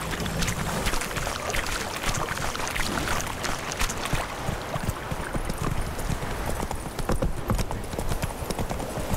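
Hooves of a horse clatter at a gallop in the video game The Witcher 3, a dense, continuous drumming of hoofbeats mixed with loud game ambience and a faint voice in the background.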